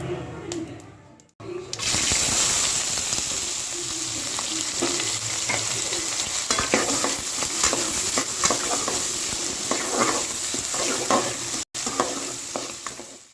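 Small shallots, green chillies and cubed onions tossed into hot oil sizzle loudly and steadily up close, with stirring scrapes and clatters over the continuous frying hiss while preparing a dry mutton curry.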